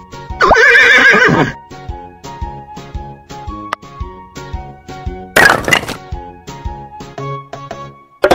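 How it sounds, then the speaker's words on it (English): A horse neighs loudly in a long, quavering whinny near the start of a children's puzzle game, followed by hollow wooden clicks and thunks of pieces and a short bright chime burst, with no talking. "Horse."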